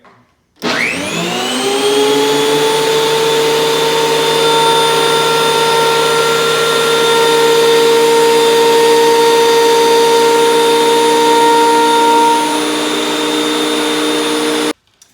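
A DeWalt 12.5 inch thickness planer spins up and runs at full speed, a loud, steady high-pitched whine with strong tonal hum, then cuts off abruptly.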